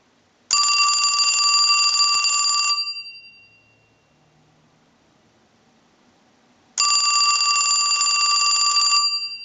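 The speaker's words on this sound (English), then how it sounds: "use the analyzer and send a ring cycle like you were getting a call" A Mickey Mouse telephone's bell rings on a line analyzer ring cycle, two loud sustained metallic rings separated by several seconds of near silence.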